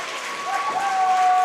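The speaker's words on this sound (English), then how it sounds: "Teammates cheer her on." Teammates and crowd cheering at a girls high school basketball game on senior night, a swelling wash of applause and shouting in a gym that grows louder, with a shrill whistle-like tone running through it.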